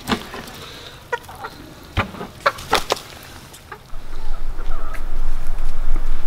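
Chickens in an outdoor run where sprouts and wheatgrass are grown as green fodder, giving scattered clucks and short calls over a steady background rush.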